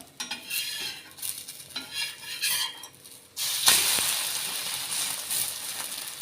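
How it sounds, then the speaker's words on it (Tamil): An egg omelette fries in a pan with soft spatula scrapes and stirring, then a sudden louder, steady sizzle after it is flipped over, all close by with no talking. "ஒரு பக்கம் வெந்துருச்சு. இப்போ திருப்பி போட்டுக்கலாம்."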